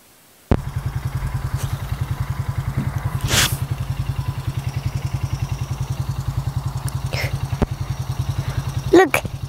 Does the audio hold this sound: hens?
no